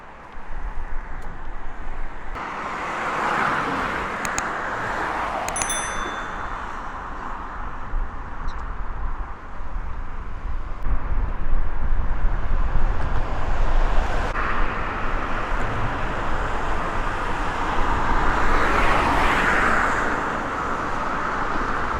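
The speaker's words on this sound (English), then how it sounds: "The traffic noise is horrendous because this is the industrial part of the city." Steady road traffic rumble in an industrial part of a city, heard from a canal bridge, with passing vehicles swelling and fading continuously at moderate loudness and no talk.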